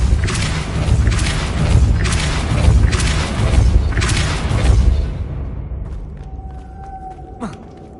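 Repeated heavy booming impacts from the Depulso spell in Hogwarts Legacy land roughly once a second for about five seconds, loud and rumbling, then fade into quieter chimes.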